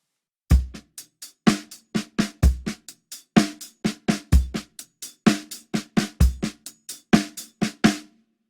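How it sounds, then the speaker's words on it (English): Drum kit playing a single paradiddle pattern, with the bass drum thumping on beats 1 and 3 under steady, evenly spaced snare and cymbal strokes, crisp and close with no voice. "It's just the bass drum on beats 1 and 3"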